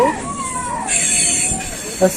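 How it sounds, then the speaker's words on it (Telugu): A train runs slowly on the line from Visakhapatnam to Araku valley, wheels screeching and squealing in drawn-out tones over a steady rumble, with a brief thump near the end. "ట్రైన్ అయితే స్లోగా వెళ్ళడం జరుగుతుంది"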